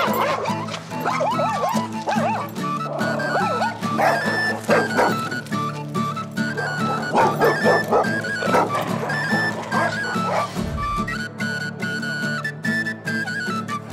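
A small dog barks and yips over a busy music-like background, with sharp repeated yaps and whimpers scattered throughout, fairly close and fairly loud.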